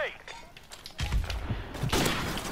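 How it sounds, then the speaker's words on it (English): An airstrike in the shooter game Modern Warfare Remastered lands as a burst of loud, close booms and rumbling explosions. A brief electronic tone comes just before the blasts. "I'm gonna call in this airstrike"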